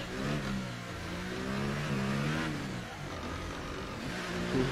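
A McLaren Formula 1 car engine in the video game F1 2018 at the Monaco Grand Prix drones and revs continuously, its pitch rising and falling through gear changes, with a synthetic, steady quality and no talking.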